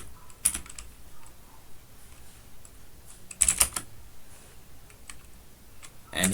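Fingers typing a protonvpn-cli command on a computer keyboard on a Linux machine: three short, crisp bursts of rapid key clicks, spaced a few seconds apart, close up with quiet pauses in between.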